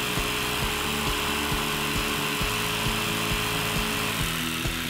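A power drill whirs steadily and loudly throughout, with a constant motor hum and a faint rhythmic pulsing as it bores a hole through wood.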